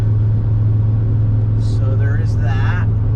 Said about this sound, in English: My car is a little on the loud side, so that's not good, but I do have a muffler on it